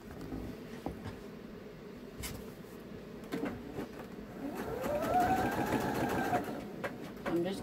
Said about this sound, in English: I'm just kind of quilting on my my stars, and I did some free motion quilting, which means you guide the fabric, not the machine